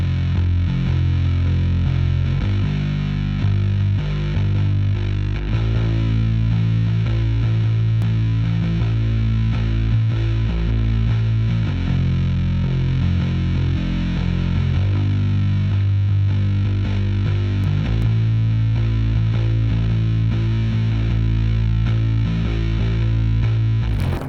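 Bass guitar tuned to drop D and run through an amp simulator, following root notes under a full shoegaze mix with heavy distortion and chorus; steady low riffing sits loud and dense throughout.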